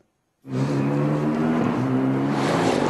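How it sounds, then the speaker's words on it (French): A Renault Sport race car accelerates hard on a closed departmental road used as a test track, its engine suddenly roaring to a loud, steady, throaty drone that stays near and constant with no talk. "Ce n'est pas un hasard si Renault Sport teste ici ses nouveaux bolides"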